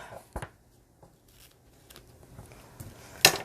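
Scattered snips and paper rustles as stamped card stock is trimmed and handled, a few sharp close cuts among quiet shuffling, no talk.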